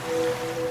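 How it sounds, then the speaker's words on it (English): Brief ocean waves sound effect in a radio advert for a laundry scent product, a soft steady wash of surf with a faint tonal hum, no voices. "now you're drifting asleep to the scent and sound of waves"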